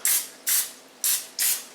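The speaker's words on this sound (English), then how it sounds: "So I'm going to spray those" Cooking oil spray misted over pesto pull-apart bread: four short, close hissing bursts in a steady rhythm, each fading quickly, with no talking.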